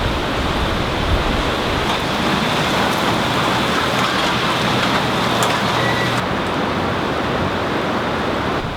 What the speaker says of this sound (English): The moment it starts raining is the moment it starts leaking.